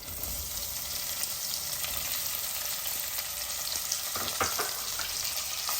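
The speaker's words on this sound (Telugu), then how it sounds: "తర్వాత మన ఉల్లిపాయలు వేసేద్దాం" Onions frying in a pan for tomato rasam give a steady, dense hiss and sizzle from start to finish, with a few faint clicks of a utensil near the end and no voices.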